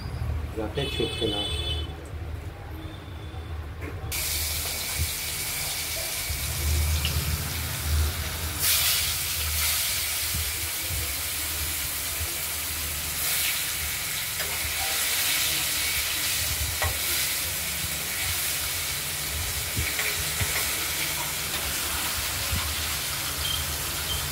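Katla fish pieces fry in hot salted oil in a wok, giving a steady loud sizzling hiss throughout that swells and crackles after the fish is added, with occasional clatter.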